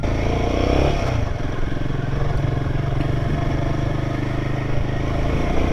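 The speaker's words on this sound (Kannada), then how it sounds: "ನಮ್ಮ ಹುಡುಗರು ನೋಡಿ ಸ್ಟ್ರೀಟ್ ಬೈಕಲ್ಲಿ ಹೆಂಗೆ ಹೋಗ್ತಾರೆ ಆಫ್ ರೋಡು" Street motorbikes ridden off road toward a dam, a continuous loud engine drone with rattling and clatter from rough ground, close by and steady throughout, no talking.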